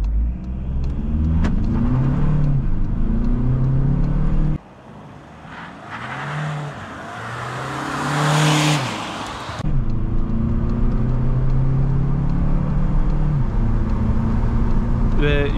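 Petrol VW Passat 1.5 TSI accelerating hard from standstill to 100 km/h, loud in-cabin engine note rising through gears with a gearshift dip, wind and road roar building, someone speaking over it.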